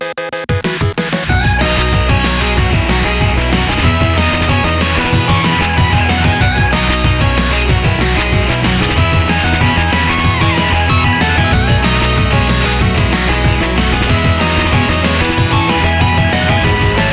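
A chiptune track, the main menu music from the video game BIT.TRIP RUNNER, plays loud and continuous with bright layered synth melodies over a driving beat throughout.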